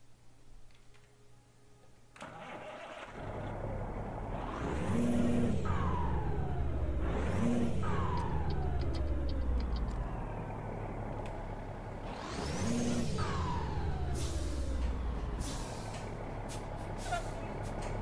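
A heavy Volvo Classic truck engine in Euro Truck Simulator 2 with a modded sound pack roars and revs in repeated surges, with sharp hissing air-brake bursts between them and a steady low rumble throughout.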